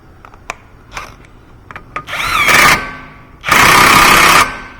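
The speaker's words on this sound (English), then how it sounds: "Go ahead and tighten that axle nut." Power tool tightening the rear axle nut on a 2017 Subaru Impreza during a bearing replacement: a few light clicks, then two loud, sustained buzzing bursts with a whining tone, heard close with no talk.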